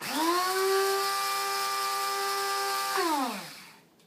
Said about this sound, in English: It's a nice soft seed, so it blends up quite quickly.